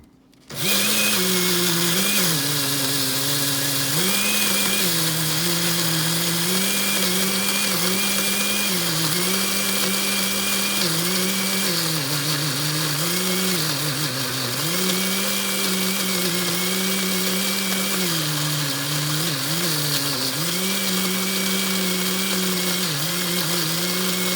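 An electric grinder whirs steadily as it grinds cardamom pods with organic brown sugar, a loud continuous motor drone with slight pitch wobbles as the load shifts, running alone throughout.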